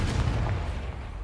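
Confringo blasting spell going off in Hogwarts Legacy, a single deep, rumbling boom that decays over about a second with no talk over it.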